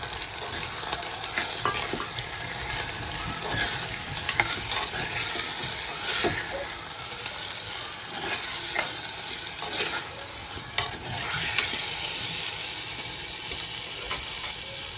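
Loud, steady sizzling fills the scene as marinated chicken and onions fry in a hot pan, punctuated by the scrape of stirring.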